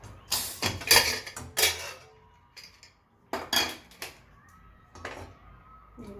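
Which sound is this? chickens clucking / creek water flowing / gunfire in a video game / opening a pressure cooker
opening a pressure cooker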